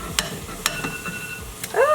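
A spoon stirs oats in a pot of boiling water, giving a few short scraping knocks against the metal over a steady bubbling hiss, close by and moderately loud.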